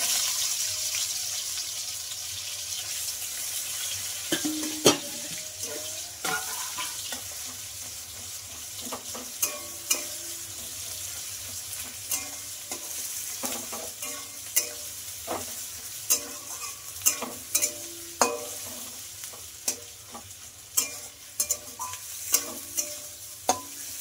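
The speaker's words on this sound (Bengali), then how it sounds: "আমার পেঁয়াজটা ভাজা হয়ে গেছে।" Onions fry in a pan for curried mutton, a steady sizzle under repeated scraping and clinking strokes of a stirring spoon, close and continuous without talk.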